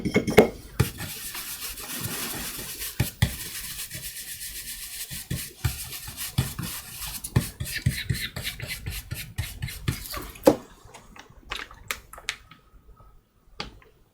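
A baren rubbed over paper laid on an inked woodblock during Japanese-style printmaking, giving a steady dry scuffing and brushing texture with scattered sharper taps and ticks, close and continuous, easing off toward the end.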